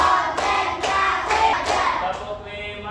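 A classroom of children claps hands together in a counted rhythm, a handful of quick, bright claps in close succession, loud and near, with faint voices mixed in.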